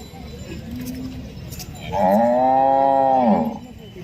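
A Khillar cow at a livestock market in Sangola lows softly, then lets out one long, loud, full moo close by, with no talk over it.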